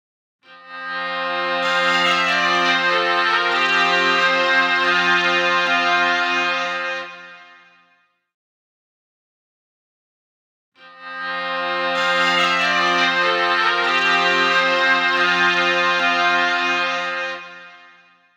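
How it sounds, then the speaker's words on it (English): Bagpipes from the Lamb Chop Loves Music PC game play a loud, steady droning tune with strong reedy tone, sounding in two long phrases of about seven seconds each, separated by a short gap. "Great work! You found the bagpipes."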